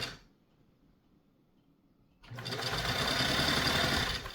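Singer 328K sewing machine stitching, a quiet start followed by a sudden steady whirring buzz of the running motor and needle that holds for the final two seconds.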